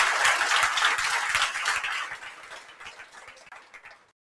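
An audience at a live seminar applauds with dense, rapid clapping, loud at first, then thinning and fading out after about four seconds.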